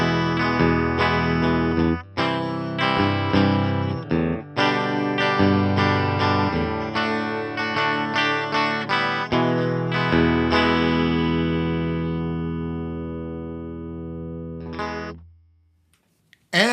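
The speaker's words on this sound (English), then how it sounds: "Marksman Channel 1, inspired by the clean channel of the Mesa Boogie Mark II C+." Electric guitar played through a Fender Tone Master Pro on the Marksman Channel 1 clean amp model, based on the Mesa Boogie Mark II C+ clean channel. Bright strummed chords and short riffs ring clearly, then a final chord sustains and fades to near silence.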